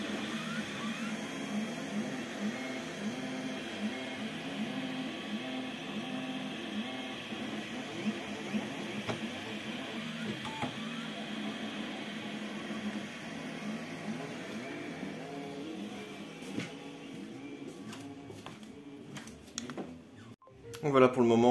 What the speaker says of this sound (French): on va attendre que ça finisse d'imprimer en 3D le petit support là